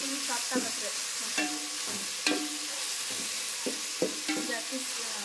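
Tomatoes frying in hot oil in a pan, a steady sizzle broken by repeated scraping strokes of a spoon stirring them, close and fairly loud with no talking.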